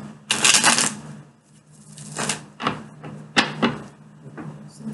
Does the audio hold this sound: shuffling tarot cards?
yes